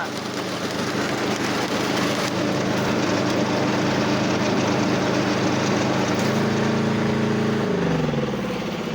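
Kubota SR-J3 Pro combine harvester working through lodged rice, a steady loud engine drone with rumbling machinery that shifts in pitch near the end, running continuously without talk.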